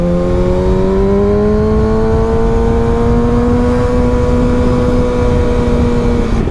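A motorcycle engine drones loud and close, its steady hum rising gradually in pitch as it revs, with no voices.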